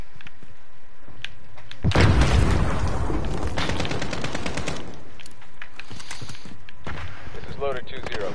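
Explosions and rapid gunfire crash through a Modern Warfare video game battle: a big blast erupts, then dense bursts of automatic fire and booms continue, with some talk mixed in.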